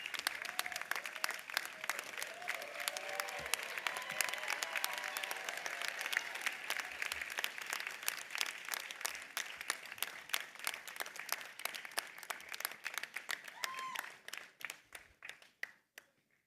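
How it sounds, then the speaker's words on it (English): Graduation ceremony audience at the Illinois Tech Stuart School of Business applauding: dense, sustained clapping from a large crowd that holds steady and then thins and tapers away over the last few seconds. "giving your family and friends a round of applause for the support and commitment they have shown to you."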